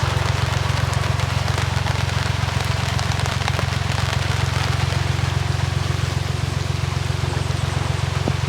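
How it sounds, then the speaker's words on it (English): Steady rain drumming on a narrowboat in summer, a dense continuous patter with a low rumble beneath, close by and fairly loud, no voices. "The rain has suddenly started again, quite unexpectedly."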